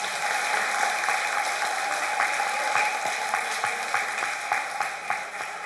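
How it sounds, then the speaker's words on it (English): An audience at a high school senior awards program gives the cooking staff a sustained round of applause, dense even clapping that fills the room without pause. "the Wolfe County High School cooking staff deserves a big round of applause."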